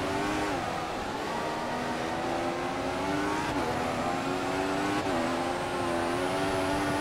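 A Formula 1 car in the F1 2014 racing game runs at full power on a straight, its high-pitched engine whine sustained and rising through the gears, loud and continuous with no talk.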